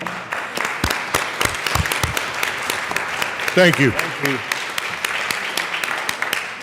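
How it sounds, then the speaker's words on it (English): Applause from legislators in the Colorado House chamber, a broad wash of clapping with sharp individual claps across the clip, under a voice briefly speaking. "think we ought to give them a round of applause from the House"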